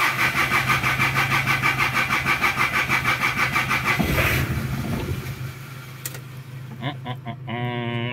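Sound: Galloper engine cranking, trying to start

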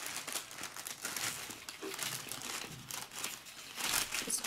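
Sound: paper sandwich bag crinkling while folding a star

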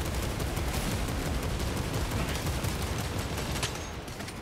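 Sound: assault bolter gunfire in video game Warhammer 40K Space Marine 2

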